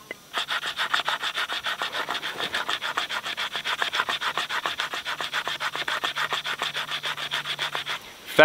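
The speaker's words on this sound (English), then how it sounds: "Right now I got to process firewood" Fatwood firewood being processed by hand outdoors in hot, humid weather: steady, rhythmic scraping strokes against resinous pine, repeating quickly and evenly at close range for several seconds before a final louder knock.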